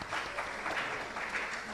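Audience applause at a maths interschool quiz finals, a steady burst of clapping from the crowd that holds at an even level throughout, heard alone without talk.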